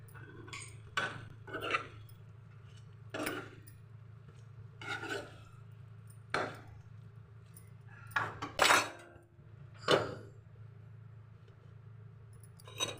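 Pieces going into a cooking pot for a curry, with sharp intermittent clinks and scrapes of metal utensils against the pot over a low steady hum, irregularly spaced and fairly quiet.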